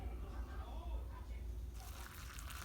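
Water is poured into a Shin Cup of instant noodles, a faint trickling fill that grows brighter partway through, with a person talking over it.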